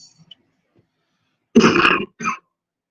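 Quiet at first, then a single harsh cough followed by a shorter throat-clearing rasp, close and loud.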